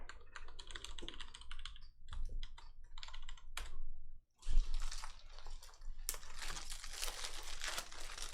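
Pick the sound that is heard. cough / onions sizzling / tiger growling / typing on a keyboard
typing on a keyboard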